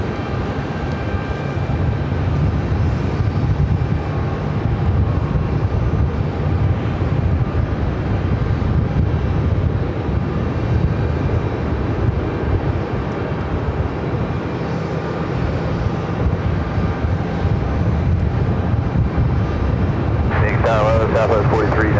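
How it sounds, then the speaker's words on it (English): A Southwest Airlines Boeing 737-700 arrives at Phoenix airport from Chicago Midway with a steady, broad engine roar that holds throughout, while a voice talks over it. "Arrival is Southwest Airlines flight 1219 coming in from Chicago Midway, a 737-700"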